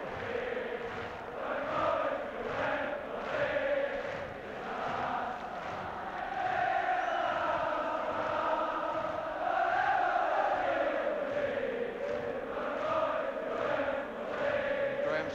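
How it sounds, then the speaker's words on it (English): A large football crowd at a Wales v Scotland match roars and chants in swelling, sustained waves, a dense wall of many voices rising and falling steadily across the whole stretch. "Graham Souness will respond to the cries of the crowd, which are entirely accurate."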